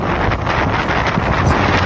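Strong wind and rain buffet a boat travelling on a river toward Kaziranga, a steady loud roar of wind across the microphone with splashing water beneath, continuous for the whole stretch and no voices.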